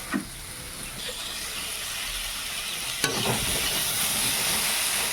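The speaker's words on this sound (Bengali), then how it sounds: "আলু পটলটা একসাথে একটু ভাজা করে নেব, লাল হলে দেখতে সুন্দর হয়" Potato and pointed gourd sizzle steadily as they fry together in a pan, a close, continuous crackle broken by a couple of brief stirring clatters and no voices.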